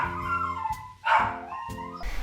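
A shelter dog giving a few short, close barks and yips in a quiet room, with brief gaps between each sound.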